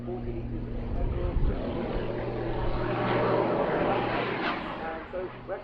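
A Jet Pitts aerobatic aircraft flies at the Duxford summer airshow, a broad engine roar swelling and fading at a distance beneath a commentator's ongoing talk.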